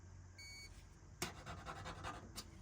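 A multimeter gives a short, thin electronic beep while a Samsung stove bake element is being tested, followed by clattering handling noise at close range.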